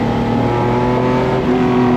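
A TVR Tuscan sports car engine runs loud and close with a steady, harmonic drone, its pitch holding briefly, then dipping and climbing slightly as the revs change.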